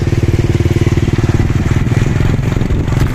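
A motorcycle ridden along a rural route, its engine loud and close with a fast, steady pulsing chug throughout and a brief shift in tone near the end, with no talking over it.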